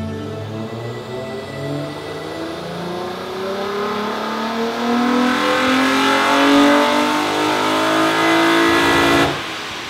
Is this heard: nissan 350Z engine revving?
yes